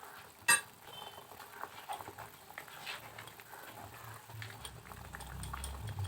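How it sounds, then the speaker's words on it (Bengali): A pot of chicken curry gravy bubbles quietly at a soft simmer, with faint scattered pops and a low rumble beneath, plus one sharp clink near the start. "ঝোলটা ফুটে উঠেছে"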